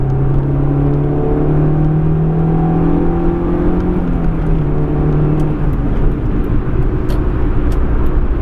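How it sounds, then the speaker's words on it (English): A 2008 Honda S2000 engine roars steadily at full throttle in fourth gear, its pitch rising slowly, with a constant rumble and road noise throughout. "This is my foot flat to the ground in fourth gear."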